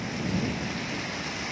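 Heavy rainstorm with thunder in Sirnagalih Damai, Cilaku, Cianjur, a steady loud wash of pouring rain with a low rumbling undertone throughout, no speech.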